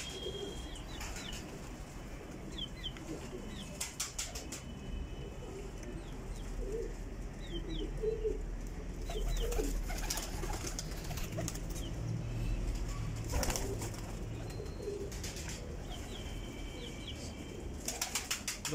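Pet pigeons coo in soft, repeated throaty bursts at close range, with occasional chirps and a flutter of wings over quiet background hiss.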